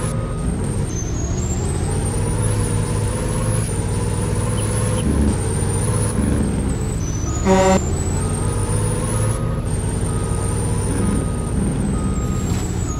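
A heavy dump truck engine in a logging video game drones steadily throughout with a constant low rumble and high whine, with a short series of beeps midway through.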